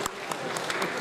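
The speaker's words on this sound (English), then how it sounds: "Let's give a round of applause to the foreign guests who were brave enough to go to the stage" A gala dinner audience at a Dhaka health conference applauds foreign guests with dense, continuous clapping that holds at an even level for the whole short stretch.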